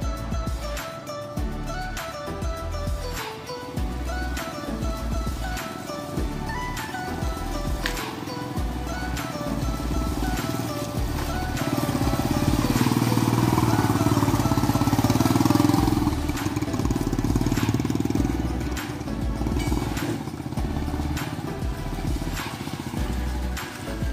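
A homemade motorcycle sidecar engine idles steadily after starting, its continuous mid-range drone swelling louder for a few seconds midway before settling back to a steady warm-up idle, with no one speaking.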